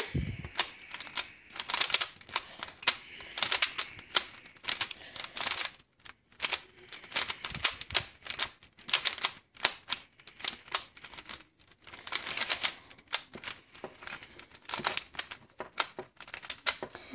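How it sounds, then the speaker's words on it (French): A 3x3 Rubik's cube being scrambled by hand, a rapid, irregular stream of sharp plastic clicks and clacks in quick bursts with brief pauses, close and fairly loud. "Donc, on va mélanger le cube."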